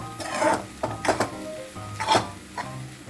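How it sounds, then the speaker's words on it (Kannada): Hot puffed rice is stirred into a sizzling tempering of onion in a pan, producing several short scraping, rustling bursts of stirring close by over a soft frying hiss. "ಬಿಸಿ ಚುನ್ಮುರಿ ಒಗ್ಗರಣೆಗೆ ಹಾಕಿ ಚೆನ್ನಾಗಿ ಕಲಿಸ್ತಾ ಇದ್ದೀನಿ ಈಗ"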